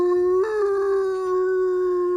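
A person imitates a dog howling, voicing one long, sustained, wavering howl that holds a steady pitch with a slight rise partway through, loud and alone.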